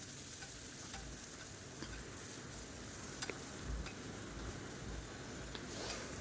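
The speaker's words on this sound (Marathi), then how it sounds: "कांद्याला आपल्याला मस्त गोल्डन कलर येईपर्यंत परतवून घ्यायचं आहे" Finely chopped onions fry in oil with bay leaf, cardamom and cinnamon, a soft, steady sizzle with scattered light clicks and scrapes of stirring, quiet and without voices.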